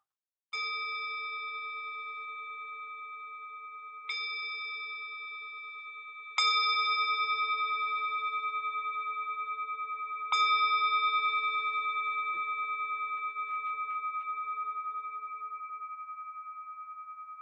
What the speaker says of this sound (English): I'm going to ring the bell and bring us back to here and now.